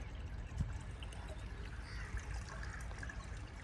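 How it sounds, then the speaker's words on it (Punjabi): Irrigation water runs into the furrows of a potato field, a faint, steady trickling flow with soft splashes and outdoor background noise. "ਪਾਣੀ ਚੱਲਣ ਦਿਆ ਦੋ ਅੱਡਾਂ 'ਚ ਜਾਣ ਦਿਆ ਪਾਣੀ"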